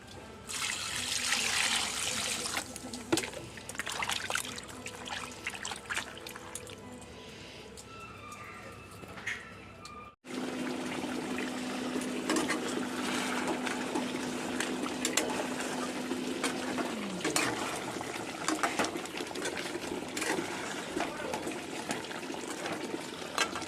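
Tap water runs and splashes into a kitchen sink while fish is washed, a steady close rush that cuts off briefly partway through, then resumes with a fuller, hissing stream.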